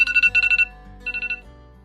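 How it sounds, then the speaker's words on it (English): A kitchen-style timer alarm rings in two bursts of rapid electronic beeps, the first longer than the second, loud and close with no talking. "So that is my timer."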